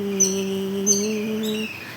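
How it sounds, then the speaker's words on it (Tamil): A sparrow chirping nearby, with a few short, bright chirps over a steady low hum. "குருவி பாருங்க கத்திக்கிட்டே இருக்குங்க"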